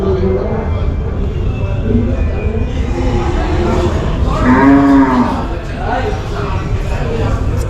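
A large cow at a cattle exhibition on a farm gives one deep, drawn-out moo midway through, heard over continuous crowd chatter and people talking nearby.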